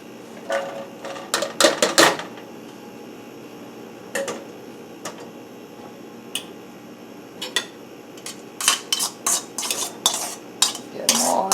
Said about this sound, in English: I'm just going to go ahead and put the drained vegetables back in that pan